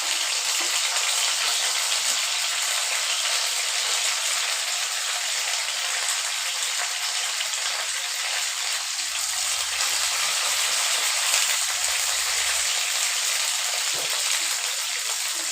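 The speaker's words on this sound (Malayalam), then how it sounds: "കുറച്ച് വേപ്പില വറുത്തെടുക്കാം." Curry leaves fry in hot oil with a constant, loud, even sizzle that holds at the same level from start to finish.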